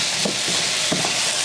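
Radishes sizzle in a pot for keto Zuppa Toscana, a steady close frying hiss with a few faint stirring bumps and no talking.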